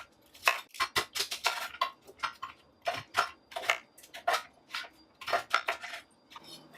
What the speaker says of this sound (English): we're gonna chop up the sweet potato.